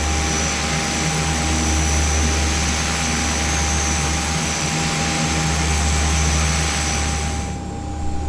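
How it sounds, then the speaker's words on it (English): Twin turboprop engines of a Carenado Brasilia B120 in the Prepar3D flight simulator run after starting, giving a constant loud whine with a steady tonal hum and broadband roar that cuts off sharply near the end. "we've got 2 good engine starts"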